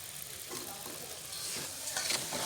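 Grated carrot halwa with added sugar cooks in a pan, giving a faint, low sizzle and soft stirring scrapes at close range.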